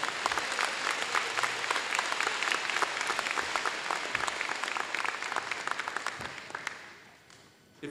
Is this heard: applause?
yes